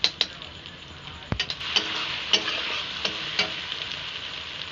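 Two spoons of ghee sizzling in a pan of cooked-down masala for chicken curry, a steady close hiss and crackle broken by sharp taps and scrapes of a spoon against the pan.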